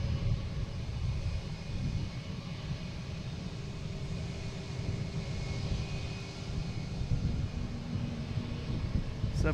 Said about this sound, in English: we have Iceland Air coming in. Coming in from Keflavik